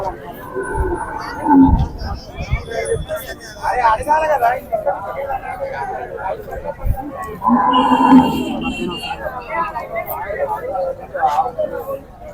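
Deep bellowing calls from buffaloes rise over busy outdoor chatter at the Pebbair livestock market, with one loud moo early and another longer call midway.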